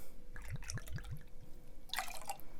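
Hennessy cognac, 50 ml, is poured for a sour cocktail at a bar, producing a quick series of gurgling glugs that rise in pitch, then a brief splashy clink, fairly close against steady room noise.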